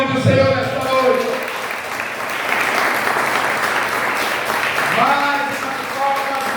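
A church congregation applauds during an evening worship service, sustained loud clapping throughout while a preacher speaks over it.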